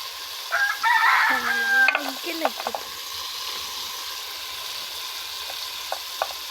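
Meat skin frying with spices in a pan, heard as a brief burst of close sizzling and stirring at the start that fades to faint background hiss.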